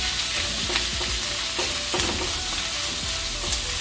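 Bacon and onion sizzle in a discada, with a steady frying hiss and repeated scrapes and clinks from stirring, spaced irregularly, close by and with no talk over it.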